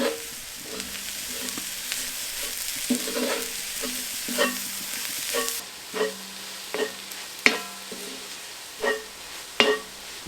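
Jaggery and grated coconut being stirred together in a pan for laddu, a sticky mixture scraped in repeated rhythmic strokes with soft sizzling between, close and clear, no talk.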